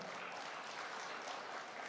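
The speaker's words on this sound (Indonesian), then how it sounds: "Tepuk tangan dong buat kita semua" Applause from the audience fills an opening ceremony at a wellness and beauty expo, a dense, even wash of clapping heard at a distance that holds steady throughout.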